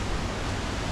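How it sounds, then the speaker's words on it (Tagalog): Buntot Palos Falls in Pangil, Laguna, Philippines, rushes as a steady, dense roar of falling water, heard from a short distance with no voices. "Rinig na yung falls dito."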